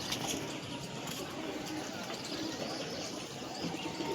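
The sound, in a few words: pigeons cooing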